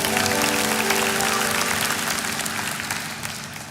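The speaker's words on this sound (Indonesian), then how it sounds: "kasih tepuk tangan untuk Tuhan" A church congregation applauds in praise, a dense, steady wash of clapping from many hands that fills the whole stretch and tapers slightly toward the end, with faint music tones running underneath.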